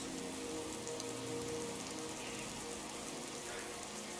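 Steady rainfall from a weather mod in the video game Skyrim, a dense, even hiss of raindrops on surfaces that continues without a break at low volume.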